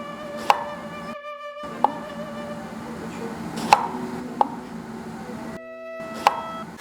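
A kitchen knife slices an eggplant into rings on a cutting board, with sharp, isolated chops spaced about a second apart, close and distinct over a constant background hum.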